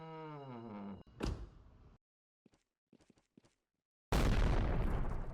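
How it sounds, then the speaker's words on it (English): A character move in a Jujutsu Shenanigans-style video game ends in a sudden, loud explosive burst after a tonal voiced sound and a few sparse clicks, roaring on at full strength to the end. "that explosion does do damage around it, so don't stand too close when that happens"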